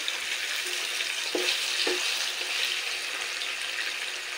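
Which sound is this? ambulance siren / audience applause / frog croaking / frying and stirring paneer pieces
frying and stirring paneer pieces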